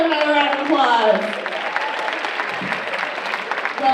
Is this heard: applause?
yes